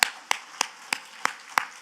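Sharp hand claps ring out at a steady, evenly spaced beat during a church sermon, six crisp claps in under two seconds with no talk.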